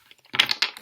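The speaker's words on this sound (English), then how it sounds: "I'm just going to shuffle 3 times." Tarot cards being shuffled by hand: a brief burst of crisp, close papery clicking and flicking that starts abruptly after a short quiet lead-in, with no talking.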